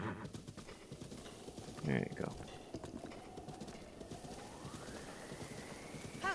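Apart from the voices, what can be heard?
horse hooves in Breath of the Wild video game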